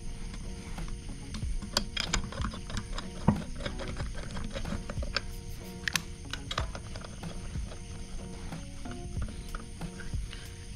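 Lug nuts on a 2011-2014 Mustang GT are spun and ratcheted tight by hand during a rear brake job, giving a steady run of close metallic clicks and ratchet bursts over a garage background.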